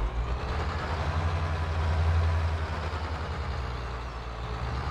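A tractor engine in Farming Simulator 22 drones at a steady low idle, loud and continuous with a slight swell midway and no voices.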